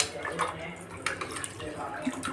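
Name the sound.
water poured into pressure cooker for tomato rice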